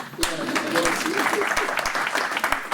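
Church congregation applauding after a pastor's sermon, a steady clap texture with sharp louder claps standing out, close and continuous, with some voices mixed in.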